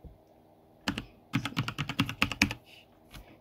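Quick run of keystrokes on a computer keyboard, about a dozen close, crisp clicks in a short burst after a single tap, in a quiet room.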